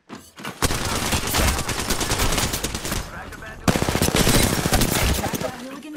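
Gunfire in a video game rattles as loud, nearly continuous machine-gun bursts in two long sprays broken by a short pause, close and dense, with a voice talking underneath the shooting.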